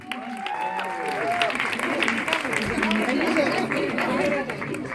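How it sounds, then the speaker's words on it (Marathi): Loud, continuous applause and cheering from a premiere crowd in Pune for the Marathi film Tamasha Live, with a dense wash of claps and a babble of voices throughout. "आणि जे मागे बसलेले आहेत त्यांच्या पण टाळ्यांचा आवाज आला पाहिजे"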